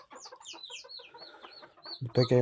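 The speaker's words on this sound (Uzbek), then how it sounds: "Xo'rozlarimiz tetik, ikkalasi ham chaqirib turibdi." Young Japanese Koshamo roosters crow from a poultry coop over a steady backdrop of high chirping birds; a louder, harmonically rich crow bursts in close to the microphone near the end.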